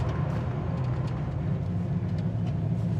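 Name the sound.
1969 Pontiac Firebird 400 engine idling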